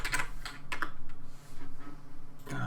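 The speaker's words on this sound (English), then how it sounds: "type in test game mode" Keystrokes on a computer keyboard while C++ code is entered in Unreal Engine 4, a quick run of close, crisp clicks in bursts with short pauses between.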